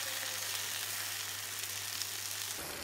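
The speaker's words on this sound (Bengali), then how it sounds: "এখন আবারও নেড়ে সবগুলো উপকরণ আরও কিছুক্ষণ ভেজে নিব।" Dried red chillies, garlic and ginger frying in a pan, giving a steady, even sizzle up close with a faint low hum beneath it.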